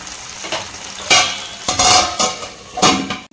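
Tomatoes fry with masala in a pan, sizzling steadily while a spoon stirs and scrapes in several loud, close bursts, with no voices.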